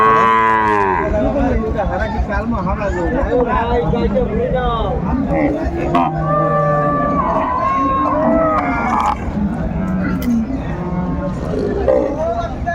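A cow with her calf at a cattle market lets out several loud, close moos, some long and drawn out, over a crowded background of voices and market bustle.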